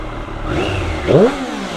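A Triumph Street Triple motorcycle engine warms up nearby, running at a steady idle before a short, rising rev swells and then settles back.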